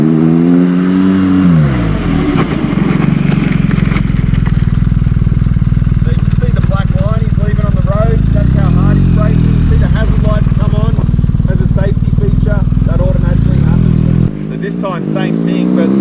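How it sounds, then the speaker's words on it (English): A 2021 BMW GS motorcycle in Enduro off-road mode rides onto gravel and brakes to a stop, its engine droning and revving close by before cutting off sharply near the end, with a voice talking over it. "he's going to switch to Enduro Mode, so the bike's in the off-road setting, and then just do a stop on the gravel as well"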